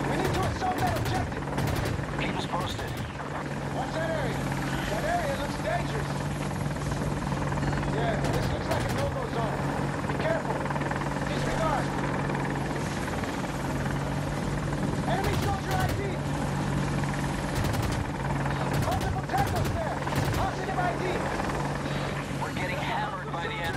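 An AH-64 Apache attack helicopter in the video game Battlefield 2042, flying a Conquest match on the El Alamein map, gives a steady, close rotor and engine drone that runs unbroken throughout, with voices over it.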